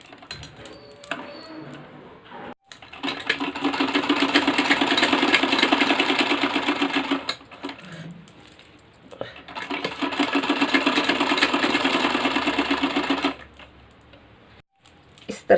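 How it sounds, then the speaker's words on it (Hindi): A sewing machine stitches along the other side of a lace trim on a garment neckline, running in two long steady bursts of several seconds each with pauses between, close and clear. "अब लेस के दूसरी साइड सिलाई लगानी है।"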